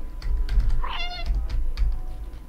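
A single short cat meow in the video game Stray rises and falls against a background of quick keyboard-like tapping and low hum.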